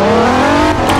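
A 2017 Nissan 370Z in a video game accelerates hard from 0 to 60, a loud, continuous engine roar rising steadily in pitch over a second.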